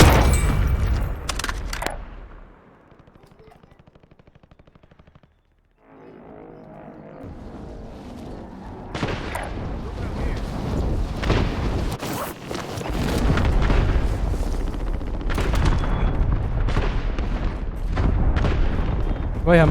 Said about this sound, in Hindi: भाई हम पे हो रहा है स्ट्राइक।